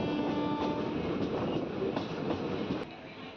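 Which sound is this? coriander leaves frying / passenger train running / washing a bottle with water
passenger train running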